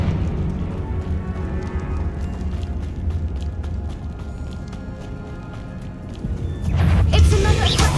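Confringo blasting spell cast in the video game Hogwarts Legacy, a steady crunching, rumbling game soundscape that builds into a loud burst of explosive noise near the end, with no talk.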